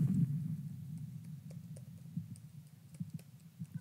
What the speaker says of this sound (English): I'm just pressing every key on my keyboard trying to see if I can button up.